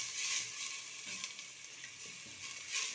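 Onion frying in a pan for a crab dish, giving a steady bright sizzle with faint scraping as it is stirred, close and alone with no talking.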